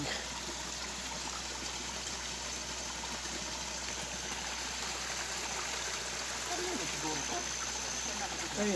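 Steady rushing water from a strong-flowing stream near a mining area fills the background, faint and continuous, with people talking over it.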